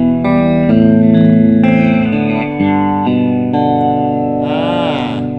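An electric guitar plays through a JOYO DC15 amp with delay added, sounding as sustained, close notes and chords with echoing repeats trailing each one and a bright bend near the end.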